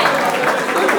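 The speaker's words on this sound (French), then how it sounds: "Merci, on applaudit pour cela." Wedding guests applauding at a reception, a steady wash of clapping filling the whole second without pause.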